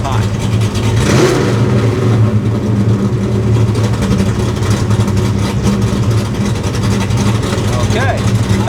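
A Ford Foxbody car engine revs up briefly near the start, then drops and holds a steady idle, running loud and close throughout with someone talking over it.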